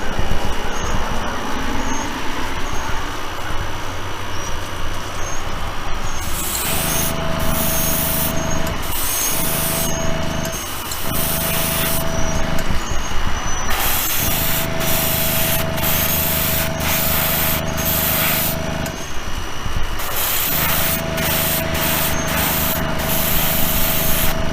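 Airbrush spraying paint onto a diecast Lamborghini Centenario model, a steady close hiss running throughout, broken by repeated short bursts and pauses as the trigger is pressed and released.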